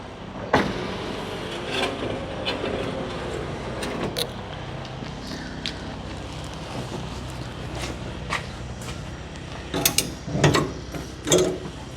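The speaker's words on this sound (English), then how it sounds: "With the electric window mechanism and the size of the window, it's a very heavy tailgate." Heavy door and electric window mechanism of a Ford Bronco that doesn't run, heard as a series of close mechanical clunks, latch clicks and ratcheting thuds spaced irregularly, with a cluster of louder knocks near the end.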